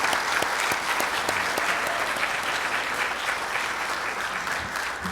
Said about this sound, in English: Let's give Rich another round of applause.